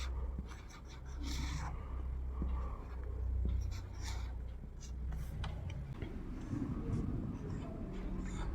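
A pen scratches across paper while forming Urdu letters, soft close strokes and small ticks in an irregular rhythm, quiet throughout over faint room noise.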